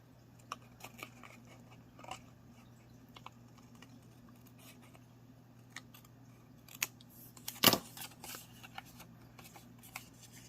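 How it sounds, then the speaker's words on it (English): Scissors snip paper while a CD sleeve is being decorated for a junk journal: faint, scattered cuts and rustles close by, with one louder crisp snip near the end. "I want to try cutting that off."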